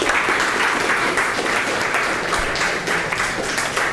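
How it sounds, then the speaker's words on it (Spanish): Dense, steady audience applause fills a lecture hall as a speaker on medical physics against cancer is welcomed; many hands clap continuously and fairly loudly, without talk, before fading at the end. "le mando un fuerte aplauso."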